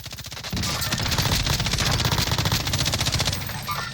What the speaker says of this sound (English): Someone's close. shooting at me.